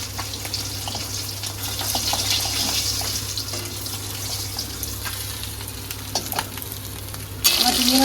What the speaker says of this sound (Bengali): তিন রকমের মাছ ভাজা হলো